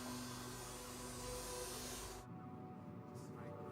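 A vacuum cleaner run through a car interior during a police forensic search for hairs and fibres, a loud steady broadband whir that cuts off abruptly partway through, leaving quieter background noise.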